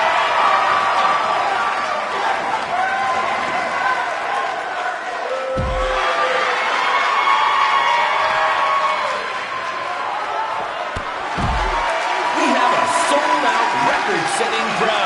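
Arena crowd roaring in a wrestling video game, a sustained loud wash of cheering and noise with a couple of heavy low thuds, under commentator talk.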